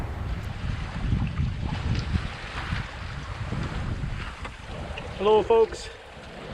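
Contessa 26 sailboat under way at sea on a solo Atlantic passage, with steady wind rush and water noise throughout and someone briefly speaking near the end.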